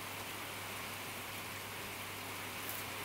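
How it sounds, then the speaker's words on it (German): A heavy rain shower pouring onto a garden pond, forming a dense, even wash of hiss that stays steady and unbroken from start to finish, with no voices. "da kommt richtig ein großer Schauer runter"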